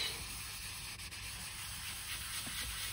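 A cleaning product is rubbed over the interior of a Tesla car, a close steady scrubbing hiss lasting about three seconds.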